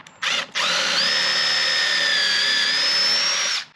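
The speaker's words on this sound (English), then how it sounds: "Now he's just gonna drill holes." Power drill boring pocket holes in wood with a jig: a brief start and stop, then a sustained high-pitched whine for about three seconds at close range, steady in pitch before spinning down, with no talking.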